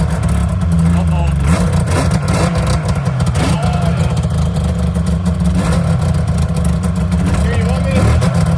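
A snowmobile engine in a garage runs steadily with a loud, rough low drone and slight fluctuations, continuous and close throughout.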